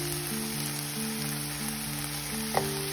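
Dry fried cauliflower (gobi) goes into a pan while making Indian style Gobi Manchurian, over a continuous close sizzle with a steady hum, a brief stir clink near the end.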